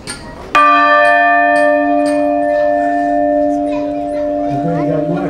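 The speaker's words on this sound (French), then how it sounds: "On peut également accéder à ces cloches, puisqu'elles sont accordées dans leur mari." Church bell in Andlau struck once near and loud, its bright ringing partials sustaining and slowly fading over several seconds, with faint voices of children in the background.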